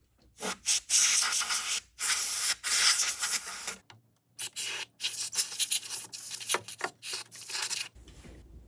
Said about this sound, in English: all I'm going to do is spray that latch to remove any debris